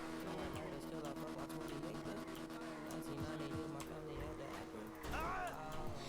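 A motorcycle engine in the video game GTA 5 drones steadily with layered harmonics and rises in pitch near the end as it accelerates, while someone talks over it throughout.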